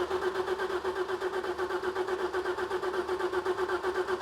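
A car engine turning over on its starter during a compression test, a steady rhythmic cranking pulse that repeats evenly and never catches, heard close and alone.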